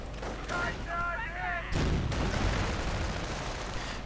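Gunfire from a World War II strategy game battle, with riflemen advancing into a Panther tank's line of fire, sounding as loud dense bursts and booming blasts mixed with chaotic battle noise throughout.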